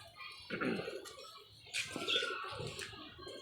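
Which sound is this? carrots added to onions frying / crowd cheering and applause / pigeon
pigeon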